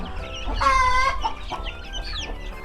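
Native and Shamo Aseel chicks cluck in a close, lively burst that peaks in the middle, then trails off into softer, scattered calls.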